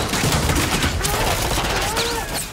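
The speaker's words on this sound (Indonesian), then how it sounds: "tiba-tiba datanglah tembakan brutal dari arah luar" Dense, continuous gunfire crackles throughout in a loud, chaotic barrage, with a few faint voices mixed in.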